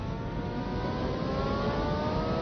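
A jet car built around a 22,000 horsepower engine salvaged from a Navy F-3D Sky Knight revs with a loud, steady roar and a strong, continuous tonal drone, heard alone throughout.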